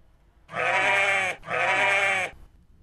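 Sheep bleating close by: two long, loud, drawn-out bleats, one after another with a brief gap between them, and no talking.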